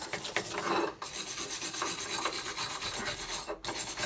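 A wire brush scrubs slag from a fresh steel weld in quick, harsh back-and-forth rasping strokes, close and loud, with two short pauses between passes.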